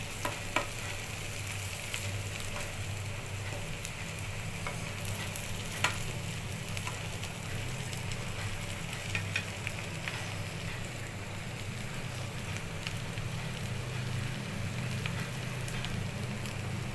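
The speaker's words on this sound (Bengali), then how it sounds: "দেখুন আমার শুটকিলাটা খুব সুন্দর করে ভাজা হয়ে গিয়েছে" Dried fish (shutki) fries in a generous amount of oil, a steady, even crackling sizzle with occasional sharper pops, close and constant throughout.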